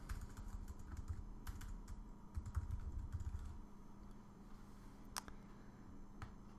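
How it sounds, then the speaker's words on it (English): Quick, steady typing on a computer keyboard while setting up an iPhone app, a close run of light key clicks over a low background hum, with a few louder isolated taps near the end. "So I'm going to type in view controller."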